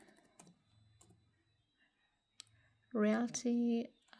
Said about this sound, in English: I'm typing so slowly.